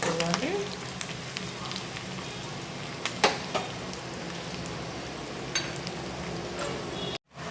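Crushed garlic frying in hot oil as tempering for a gongura tomato curry: a steady close sizzle with spatter crackles and a few metallic clinks of a spoon on the pan, briefly cut to silence near the end.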